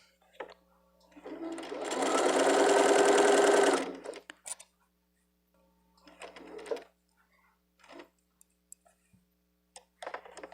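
A sewing machine stitches fabric for about half an inch in one loud, steady burst of rapid needle strokes lasting a couple of seconds, followed by quieter scattered handling clicks and pauses.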